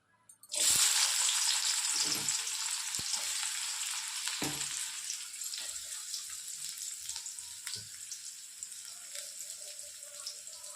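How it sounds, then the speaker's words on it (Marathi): Onion and green chilli dropped into hot oil in a pan for upma, a sudden loud burst of sizzling that settles into a steady hiss with occasional crackles, gradually quieting. "आता यात आपण टाकतोय कांदा आणि मिरची, त्याला बऱ्यापैकी छान फ्राय करून टाकू"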